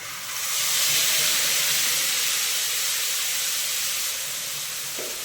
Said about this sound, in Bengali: এবার দিয়ে দিলাম আদা, কাঁচা লঙ্কা, পোস্ত আর কাজু বাটা আর টমেটো।